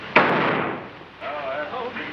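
A single loud, sharp gunshot cracks out near the start of a Billy the Kid western film scene and rings off into a long fading tail, followed by quieter voices.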